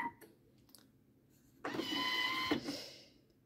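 A Thermomix TM6 kitchen machine starting up in rice cooker mode: a couple of faint clicks, then a sudden motor whir with a steady tone that lasts about a second and then fades.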